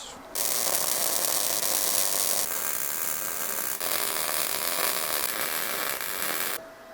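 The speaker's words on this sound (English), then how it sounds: "Let's set those welds." Welding pieces of a mobile multipurpose forge cart produces a loud, steady crackling hiss that runs almost unbroken for several seconds and cuts off abruptly, with no talking.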